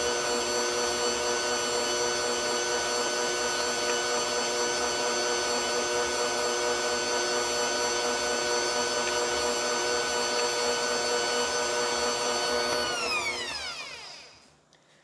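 An electric mixer creams an egg into licorice snaps batter, a steady loud whirring drone held for about thirteen seconds before the motor winds down and stops.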